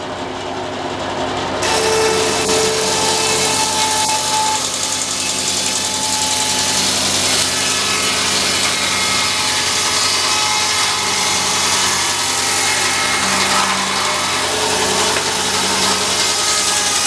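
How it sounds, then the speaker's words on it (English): A sawmill engine rises from a lower idle into a loud, steady roar as it cuts black walnut at a show, a dense continuous grinding drone with faint tonal whines and no voices. "Cut a little black walnut here."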